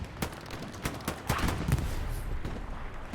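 Anti-tank cannons fire during a video game match: several sharp, irregular blasts over a constant clatter of battlefield gunfire, with no voices.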